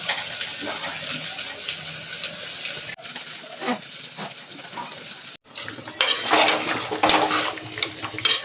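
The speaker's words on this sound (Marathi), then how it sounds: "आता एक गरम पाणी त्याच्यात टाकू" Hot water splashes and pours into a cooking pot of unwashed lentils and rice, a steady rushing stream with some clinking and a brief pause before it resumes louder.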